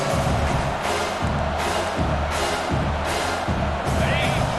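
Stadium crowd roar in a College Football 25 game between USC and Michigan, a steady loud wash of cheering with rhythmic swells, like chanting, running throughout.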